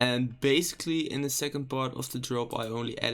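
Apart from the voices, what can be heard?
No distinct noise like a dog, phone or traffic.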